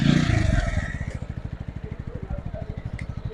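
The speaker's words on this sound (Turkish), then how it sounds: "Motorumuzun da şöyle gelişini görelim." A Kuba Superlight motorcycle, still in its first running-in service period, rolls up after a test ride. A steady, rapid single-cylinder putter idles close by after a brief louder rush at the start, and a faint scrape comes near the end.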